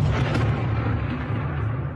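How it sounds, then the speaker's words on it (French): Explosions over Moscow at night during a Ukrainian drone attack, heard as a continuous heavy rumbling roar with low booming weight, loud and sustained without a break. "4 heures du matin, cette nuit, dans le ciel de Moscou, des lueurs oranges, puis les explosions se succèdent."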